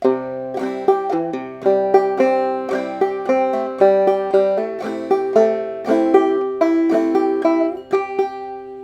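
Clawhammer banjo picks out "Billy in the Lowground" alone, a steady stream of bright plucked notes with a regular rolling rhythm and ringing drone strings.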